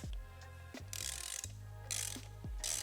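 A hand ratchet loosening small bolts on a Harley-Davidson Road Glide during a breather install: several loud, close bursts of rapid clicking separated by short pauses, with no voices.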